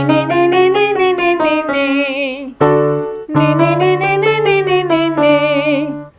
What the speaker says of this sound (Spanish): El twang nasal suena así de feo